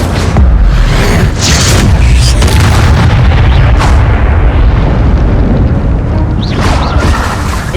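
Loud, continuous blasts of the Incendio fire spell in Hogwarts Legacy, dense booming bursts packed one after another with no pause across the whole stretch.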